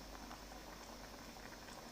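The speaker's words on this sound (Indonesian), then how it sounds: "Nah, ini juga sudah mendidih." Chicken gulai curry boils in a pot, giving a soft, continuous bubbling and popping that stays faint and even throughout, with no talking.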